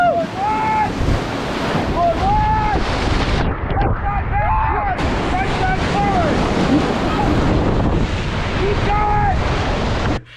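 Whitewater rafting on a Colorado river: rushing, splashing water and wind buffeting the microphone form a loud continuous roar, with excited shouts and cheering voices riding over it.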